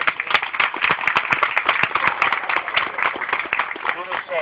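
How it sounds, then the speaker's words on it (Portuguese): A crowd gives a close, dense round of applause to Betinho, a former Brazilian national team footballer, with sustained clapping throughout and voices mixed in. "Betinho, já tem uma salva de palmas aí para o nosso amigo Betinho."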